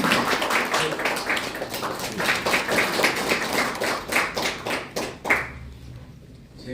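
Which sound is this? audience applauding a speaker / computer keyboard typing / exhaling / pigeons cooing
audience applauding a speaker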